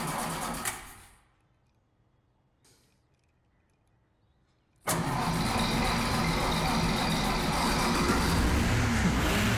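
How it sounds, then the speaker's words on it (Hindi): An old taxi's engine is cranked and fires up suddenly, catching after a quiet pause and settling into a loud, steady running chug that continues to the end. "ये स्टार्ट भी नहीं होगी।"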